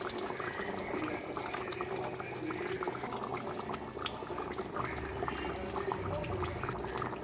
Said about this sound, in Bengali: এবার আমি মাছটা দিয়ে আর 2 মিনিট ফুটিয়ে তারপরে ঝোলটাকে আমি নামিয়ে নেব।